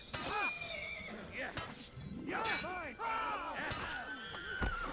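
Several loud, shrill horse whinnies ring out one after another, rising and falling, with faint hoof clatter between them, in the video game Assassin's Creed during a horse fight.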